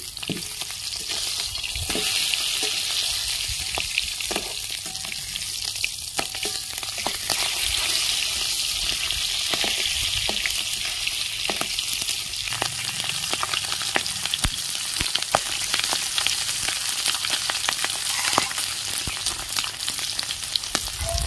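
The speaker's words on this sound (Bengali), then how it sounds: "মাছটা আমি উল্টে নিচ্ছি।" Egg-filled tangra fish frying in hot oil just after being turned, giving a loud, continuous close sizzle with frequent sharp spatters and crackles running unbroken for the whole stretch, no voices over it.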